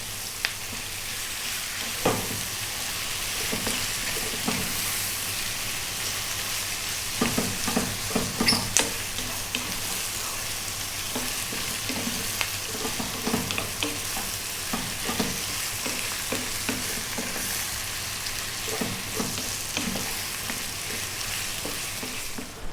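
Beef fries over medium heat in a pan, sizzling steadily with a close, continuous hiss while frequent stirring adds scraping clicks and knocks throughout.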